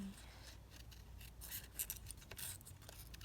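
Scissors kiss-cut paper for an English country garden junk journal, a faint, close series of soft snips and rubbing scrapes, fairly continuous with small bursts.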